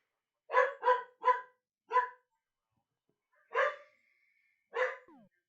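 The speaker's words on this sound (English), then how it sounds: "Dog's about to bark because apparently the neighbor's dog's walking around" A neighbor's dog barks outdoors at a distance: four quick barks in a burst, a pause, then two more spaced barks, the last trailing into a short whine, with silence between.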